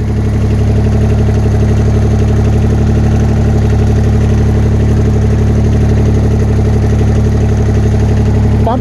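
A Bolens QT 16 garden tractor engine runs at a steady idle, a loud, continuous low chugging drone with no change in pace, close up and alone without talk.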